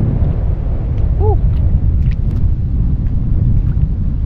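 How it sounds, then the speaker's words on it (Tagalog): Strong wind buffets a microphone outdoors on a rocky seashore during a morning fishing trip, a loud continuous low rumble and roar that fills the whole stretch, with a brief faint chirp-like tone partway through. "Medyo malakas na ngayon ang hangin."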